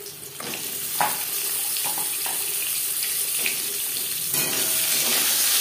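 Pointed gourd pieces dropped into hot oil with a bay leaf and five-spice, giving a loud continuous hissing fry with a few sharp clatters of stirring up close.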